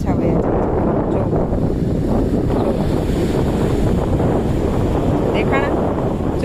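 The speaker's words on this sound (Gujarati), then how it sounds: "દરિયાની લહેર આવે છે મજા આવે છે ઊંચા ઊંચા અને પવન આવે છે જોરદાર" Sea waves surge continuously onto a monsoon beach while strong wind buffets the microphone in a dense, loud, steady roar with no breaks.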